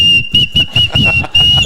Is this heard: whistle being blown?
yes